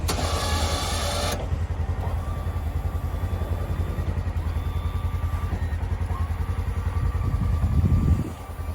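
A Polaris Ranger Glacier Pro snow plow's hydraulics and engine running loud and steady as the blade angles left to right, opening with a brief higher-pitched whine before settling into a continuous mechanical drone.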